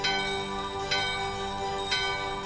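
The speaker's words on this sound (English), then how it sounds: "So now we ring the bell in front of this door." A bell rings at a door in Gizamaluke's Grotto in Final Fantasy IX: two bright metallic strikes about a second apart, each ringing out over a sustained tonal background of game music.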